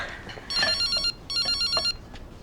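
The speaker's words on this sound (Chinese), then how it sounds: "接个电话。" A telephone rings in two loud, close electronic bursts with a short gap between them, during a family meal at home.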